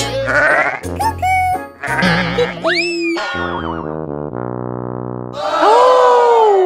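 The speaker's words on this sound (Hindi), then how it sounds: "नहीं, ये एक बकरी है।" A goat bleats several times in a cartoon setting, the calls bending and wavering with boingy, processed effects and bright tones mixed in, loud and close with no talking.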